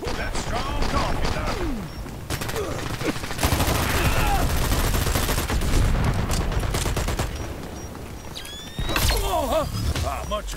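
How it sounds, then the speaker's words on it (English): Sustained automatic gunfire from the online shooter Dirty Bomb rattles in long bursts, joined by mechanical clanks and whirs, with a fresh loud burst near the end; voices come through under the shooting. "I'm taking fire"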